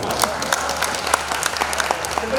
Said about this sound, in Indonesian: Tepuk tangan untuk Bapak Koyul.